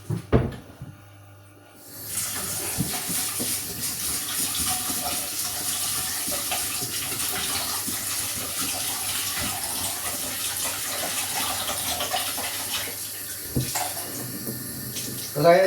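Water runs steadily from a kitchen tap while a glass is washed under it, a loud continuous rush with a few clinks and knocks, starting after a short quiet lead-in and stopping abruptly at the end.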